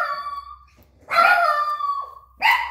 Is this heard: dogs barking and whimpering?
yes